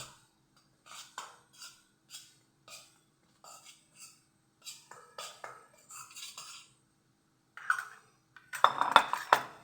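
Dry flour and spices being mixed in a bowl for fasting bhakri dough, heard as scattered scraping and clinking strokes of a spoon against the bowl, close and fairly quiet, with a louder burst of scraping at the end.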